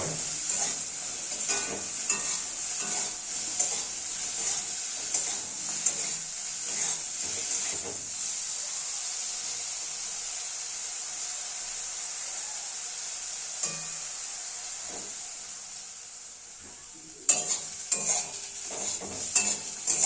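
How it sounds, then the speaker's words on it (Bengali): Eggplant pieces coated with salt and turmeric fry with a constant hiss while a utensil scrapes and stirs them in irregular bursts, pausing midway before more stirring. "বেগুনের টুকরোগুলো সুন্দরভাবে ভাজা হয়ে গিয়েছে"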